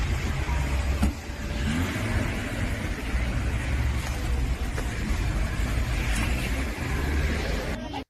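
A car engine hums and revs steadily in a continuous rumble, passing close by with road noise, with no talk over it.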